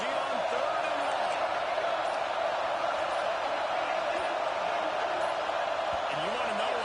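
A stadium crowd at a football game on third and long keeps up a loud, dense, unbroken roar that holds steady throughout.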